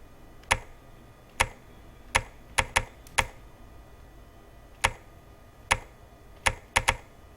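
Keys clacking on a computer keyboard during an online typing speed test, about ten sharp, separate strokes in irregular bursts and gaps over a faint steady background hum, with no voices.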